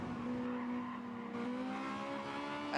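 Civic Type R race cars under heavy braking during a GT7 race at Sardegna, a steady engine drone with sustained high tonal whine throughout, fairly loud and continuous, no voices.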